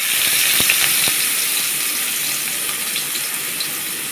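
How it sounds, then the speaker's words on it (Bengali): Chopped onion fries in hot oil with a steady, loud, hissing sizzle that carries through unchanged, broken by a few faint clicks near the start. "আমি এখন তেল দিয়ে নিলাম, পেঁয়াজ কুচি দিয়ে দিলাম,"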